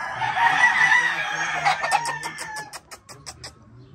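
Gamecock roosters kept in a rearing pen crow loudly nearby, with a choppy run of rapid clucks and calls near the end.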